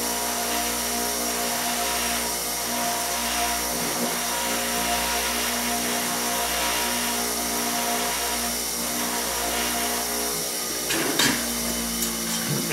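Rotary burnishing tool running on the edges of a leather holster, a steady loud mechanical whir with a rhythmic rubbing texture and a brief scrape near the end, no voices.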